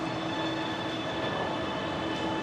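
A Shanghai metro train rolls past with a steady, loud rumble and rail hiss throughout, a continuous wash of wheel and car noise with no pauses.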